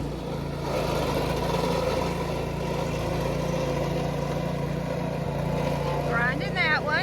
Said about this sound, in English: I don't know if you can hear it or not, but Bill's got his stump grinder going